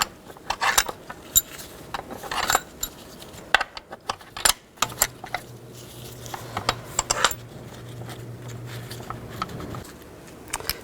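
A hand ratchet works bolts back into the intake manifold of a 2010-16 Buick LaCrosse, giving sparse metallic clicks and clinks up close, with short bursts of ratcheting and a steady low hum in the background.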